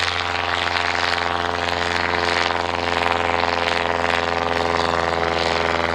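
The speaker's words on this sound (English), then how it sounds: "Cranking the engine up now, the Bristol box kite." A replica Bristol Boxkite, a 1910-design biplane, has its engine running with a steady, loud, continuous drone at an evening air display.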